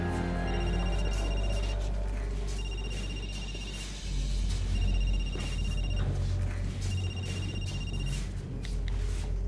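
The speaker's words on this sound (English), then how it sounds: "that was a phone that residents would call to get the staff in case they needed help in the middle of the night" A hospital staff phone that residents used to call for help at night rings loudly in repeated bursts, each ring separated by short pauses, with no talking over it.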